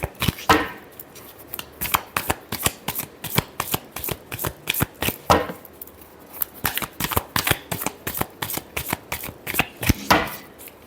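Playing cards riffle-shuffled again and again in quick, crisp bursts during a tarot reading, close and clear with no one talking.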